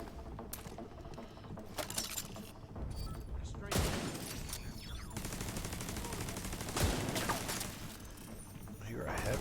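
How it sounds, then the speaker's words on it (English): A deployed turret fires at enemies in the Division 2 shooter, producing bursts of rapid automatic gunfire with sharp louder cracks and metallic clinks, heard at moderate level under a game soundtrack. "Let's go ahead and say hello with my little turret."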